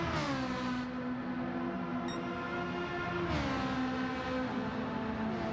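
Race car engine in a racing video game, screaming continuously at high revs with a dense stack of harmonics; pitch climbs, drops sharply at an upshift around a third of the way in, climbs again and shifts once more, loud and steady.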